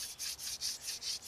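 A wooden hand drill spins against a hearth board to make a primitive fire, giving a close, quiet, rhythmic rubbing of wood on wood in about six quick strokes.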